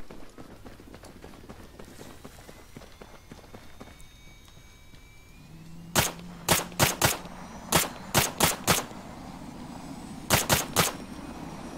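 Gunfire in ARMA 3 during a King of the Hill match: a series of sharp, loud shots spaced irregularly in small clusters over a low ambient background, starting partway through after a quieter stretch.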